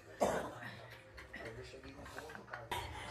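A woman coughs sharply once near the start, followed by quieter throat sounds and low background chatter and clinking of dishes.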